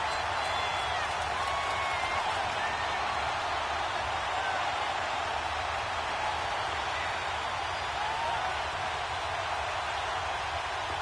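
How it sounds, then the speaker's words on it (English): A steady stadium crowd roars inside a domed arena in a PS4 football video game, an even, unbroken wash of noise across the whole stretch, with no talk. "The crowd here in the Dome making things difficult."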